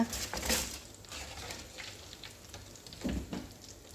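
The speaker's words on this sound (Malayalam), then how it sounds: "പത്ത് മിനിറ്റ് കഴിഞ്ഞിട്ട് നമുക്കിതൊന്ന് ഫ്രൈ ആക്കി എടുക്കാം" Donuts frying in hot oil: a steady close sizzle and crackle with occasional louder bubbling bursts, continuous and alone.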